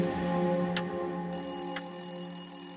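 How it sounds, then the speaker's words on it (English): A telephone rings in a quiet room late at night, a steady electronic tone with faint repeated ticks under it, heard alone without speech. "Not long after, the phone rang"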